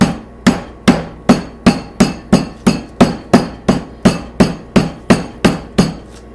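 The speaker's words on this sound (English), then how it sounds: "I smack the chicken away from me. And you see how it's flattening out?" A hand smacks raw chicken breast to flatten it without a meat mallet, about fifteen sharp, even thwacks in a steady rhythm, close and loud with no talk.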